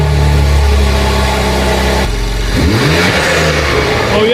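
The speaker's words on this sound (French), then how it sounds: "Le filtre sport affecte légèrement le son de la voiture" A 2022 BMW M3 Competition fitted with a sport air filter, its engine revving loudly and close, with a steady droning note that dips and then climbs through sweeping rev changes.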